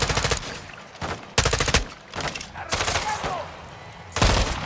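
Automatic gunfire in Call of Duty Modern Warfare rattles out in loud, rapid bursts separated by short pauses, with the firing close and dominant.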